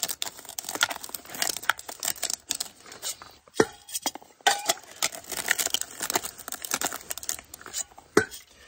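Cracked coffee beans are shuffled around over a metal grid by hand in an improvised grinder, making irregular rattling, crinkling and clattering bursts with sharp clicks and brief pauses, close and fairly loud.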